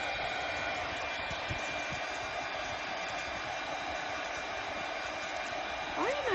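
A hair dryer blows in a steady, close, continuous whoosh while drying a painted bunny and flower on an Easter arch sign, the hum unbroken throughout.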